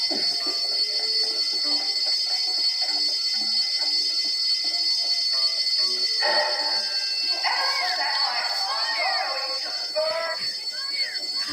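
An indoor fire alarm rings as a steady high-pitched electronic tone through the whole passage, with a dog barking and yipping near the end and voices heard briefly.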